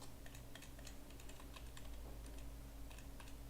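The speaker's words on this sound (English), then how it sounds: "Look, this is how I press a key." Computer keyboard keys pressed in a steady, uneven series of light clicks and taps, close by and moderately quiet over a constant low electrical hum, with no talking.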